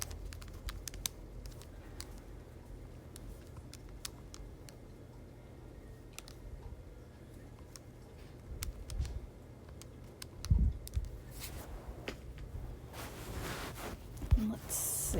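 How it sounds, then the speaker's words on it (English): Fingers tap out numbers on a calculator's keys, a run of small quick clicks close up, irregular in rhythm, over a faint low hum with an occasional louder knock. "So I'm typing it in my calculator."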